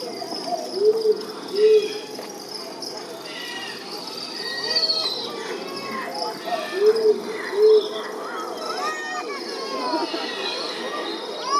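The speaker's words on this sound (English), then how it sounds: "Owls are everywhere." Soft owl hoots sound in pairs twice, low and mellow, over a steady chorus of night insects and faint bird calls, at a zoo bird show in Sydney.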